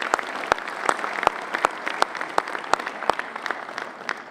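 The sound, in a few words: applause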